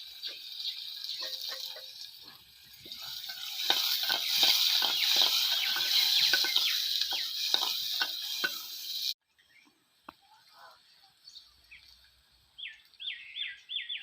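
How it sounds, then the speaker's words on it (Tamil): Chopped onions sauté with curry leaves in a pan for pepper chicken, a dense close sizzle with scraping stir strokes that cuts off abruptly, leaving quiet room sound and a few faint chirps. "இந்த வெங்காயம் நல்லா வதங்கிருச்சு"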